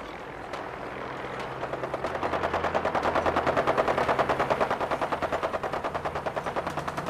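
Rapid automatic gunfire from a Fallout 4 firefight builds into a fast, steady rattle of shots over a low droning background, loud and sustained with no talk.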